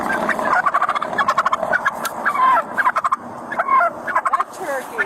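Turkeys gobble repeatedly in loud, rapid rattling bursts across the whole stretch, with several calls overlapping in quick succession and no talk.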